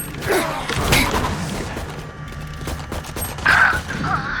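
A weapon reloads in the shooter game Valorant with mechanical clicks, creaks and metallic clacks close up, followed by a brief high electronic chirp, all over game background noise.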